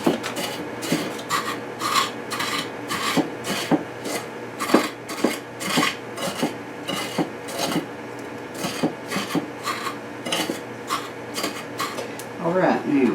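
Ingredients for fried chicken are crushed with a rough, rhythmic rasping and grinding, repeated strokes at a steady pace close by, with a voice talking intermittently over them.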